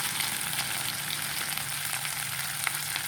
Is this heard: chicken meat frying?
yes